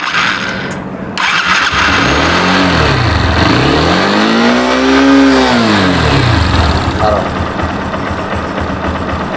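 A Honda CB Hornet 160 motorcycle with a failing timing chain starts, settles into a loud, close idle, and is revved twice in rising-and-falling sweeps, the first short and the second longer.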